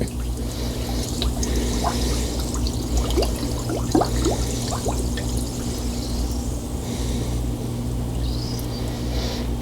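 Water trickles and pours steadily into a sink drain packed with baking soda, with a continuous close liquid wash and scattered drips, no talking.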